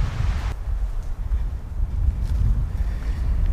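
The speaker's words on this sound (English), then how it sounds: "It's pretty windy" Strong wind on a hiking ridge track buffets the microphone in heavy low rumbling gusts, continuous and close, with no voices.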